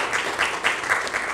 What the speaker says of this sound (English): Thank you for giving them a big round of applause